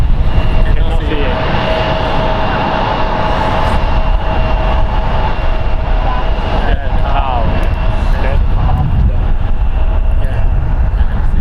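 A Virgin airliner passing overhead at San Francisco International Airport, a loud sustained jet engine roar with rumble and whine throughout, heard close and continuous while people talk.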